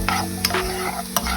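Onions sauté with flour for a from-scratch gravy, giving a loud close sizzle broken by a few sharp stirring scrapes.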